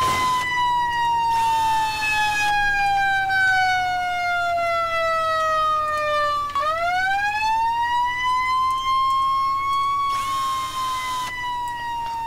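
A fire engine siren wails loudly in a continuous electronic tone, sliding slowly down and then rising again, with a brief burst of a second, harsher siren pattern near the start and again near the end; no talking.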